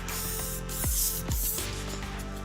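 A spray gun applying TensorGrip L42 adhesive to Corian gives a loud, continuous close hiss, with two brief dips and swells in the spray.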